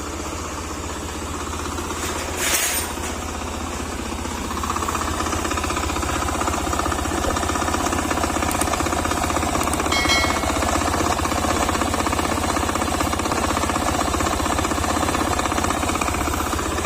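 A Honda Click 125 scooter engine, pulley removed, idles with a rough, rapid crankshaft knocking rhythm, steady and close throughout, with a brief metallic clatter near the start.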